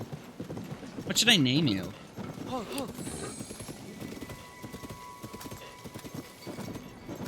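Horse in Zelda: Tears of the Kingdom, a short whinny followed by soft clip-clop hoofbeats, close and moderate, with someone talking over it.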